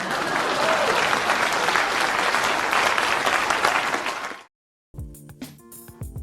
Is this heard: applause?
yes